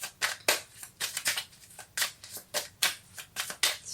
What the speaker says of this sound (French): Allez, je continue ici avec l'oracle des miroirs. Une petite carte sera la bienvenue.